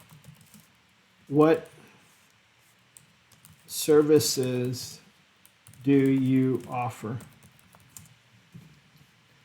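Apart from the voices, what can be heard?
typing on a computer keyboard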